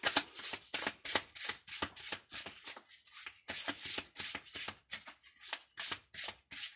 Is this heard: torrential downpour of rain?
no